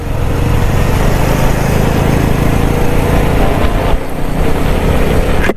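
A CFMOTO 250SR motorcycle engine drones loudly and steadily while being ridden, a close, constant buzzing hum with wind rush that barely wavers before a slight dip near the end.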